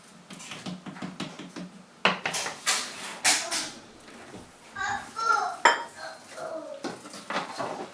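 Wheat flour bread dough is mixed in a bowl, with rhythmic close knocks and scrapes of a utensil against the bowl, some sharper clatters, and a voice speaking briefly partway through.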